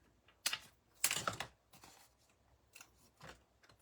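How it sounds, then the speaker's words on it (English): Scissors snip a strip from a crafted card with a few crisp, close cuts. Two sharper bursts of snipping are followed by lighter clicks and rustles of paper in a quiet room. "And then I'll just cut a strip off the bottom here."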